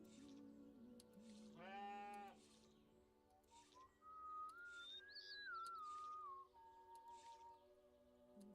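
Goats in the farming video game Stillness of the Wind bleat at low volume, one wavering bleat near the start and a longer, higher bleat later, over a quiet musical background.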